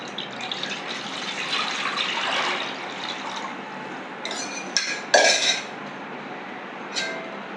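A tamarind and chili powder mixture pours into a pot for Tirunelveli meen kuzhambu, a liquid rush followed by several sharp metallic clinks and clatters of the vessel.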